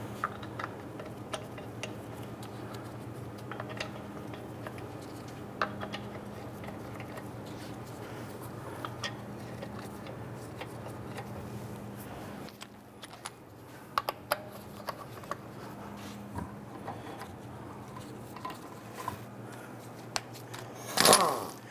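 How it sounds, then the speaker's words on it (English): Lug nuts threaded by hand onto a Jeep Grand Cherokee wheel, with faint, scattered metallic ticks and clicks over a low steady hum, followed by a brief louder clatter near the end. "Let's go ahead and install our lug nuts."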